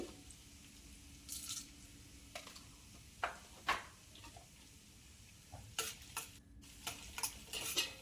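Chopped ginger and black pepper frying in a small amount of ghee, heard as a faint, low sizzle broken by soft scattered stirring scrapes and clicks of a utensil against the pan, close and quiet.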